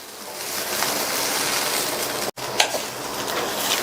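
Bean and carrot stir-fry being stirred in a pan, a steady broadband sizzle with soft scraping that runs throughout, broken once by a brief dropout and then a small knock before the frying noise resumes.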